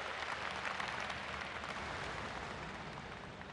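Steady, dense applause from a large crowd welcomes Indian Prime Minister Narendra Modi at a birth centenary celebration for Nanaji Deshmukh, sustained and even throughout.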